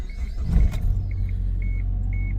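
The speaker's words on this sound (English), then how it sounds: "All you gotta do is turn on the car." A 1999 Chevy Tracker engine, just fitted with a new alternator, idles with a steady low rumble after a brief rougher burst, while a repeating electronic chime beeps over it.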